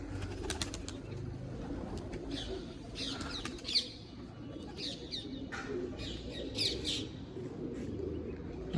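Pigeons coo softly in the open while one flies in and lands, with a brief flutter of wings amid steady background noise and scattered chirps.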